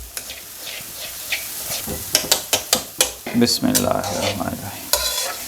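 Churi crumbs roasting in desi ghee, stirred with a spoon against the pan: a run of sharp scraping clacks over a soft sizzle, close and moderately loud, with a brief spoken phrase near the start.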